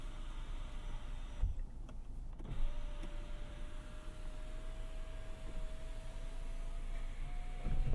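Panoramic sunroof motor on a 2024 Kia Sorento X-Line SX-Prestige AWD opening, a quiet steady electric whine rising slightly in pitch over several seconds inside the cabin, after a couple of soft clicks, with no talking.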